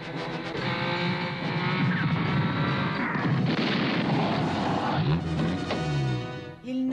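Gunfire from a rifle in an animated action scene, a dense, loud, booming burst with crashing noise lasting several seconds before trailing off.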